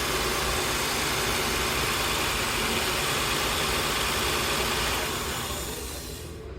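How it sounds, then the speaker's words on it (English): A car engine idles steadily with a dense, even rumble, then the sound thins and fades slightly in the last second. "We are now going to start the car. As you can hear, it is running"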